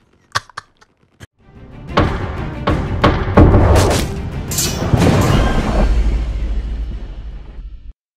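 A cannon fires in the vehicle-combat game Crossout: a few sharp early reports, then a loud, sustained roar of heavy booms and explosions with rumbling low end, up close and without talk.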